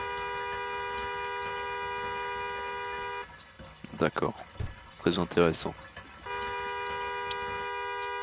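A car horn blares in two long sustained blasts out in the desert, with a break between them where people talk and move about.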